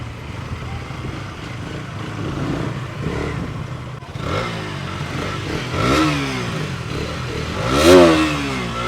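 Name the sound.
250 cc segment motorcycle riding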